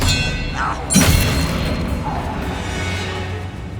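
Casting the Expelliarmus disarming spell in Hogwarts Legacy, set in the Overlook Mine, produces a single forceful whooshing boom with a thud, then fades back into a low, steady ambient rumble.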